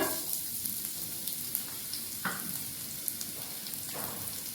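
Onions, tomatoes and coriander frying in about two spoons of hot oil, a soft steady sizzle with a few brief scrapes or stirs, fairly quiet and close, no talking.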